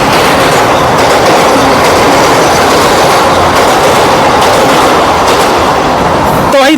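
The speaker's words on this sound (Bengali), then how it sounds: "লোকাল ট্রেন চলে গেল" A local train rumbles past steadily and loudly, with continuous rail noise and a brief squeal of wheels at the very end.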